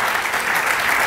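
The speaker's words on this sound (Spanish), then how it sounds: "Dale un aplauso fuerte al Señor en esta tarde." A church congregation clapping for the Lord, dense, steady applause that fills the whole moment with no voices over it.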